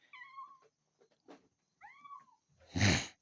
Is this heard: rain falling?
no